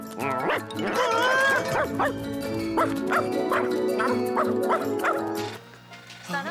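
A dog gives a run of short yipping barks and whimpery howls, close and fairly loud, ending abruptly into quieter background.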